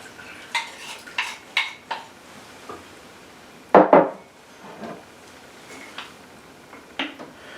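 Liquid being mixed into flour and yeast for floury bap dough with a spoon in a bowl, giving a series of soft scrapes and taps, one louder knocking clatter midway, then sporadic quieter stirring.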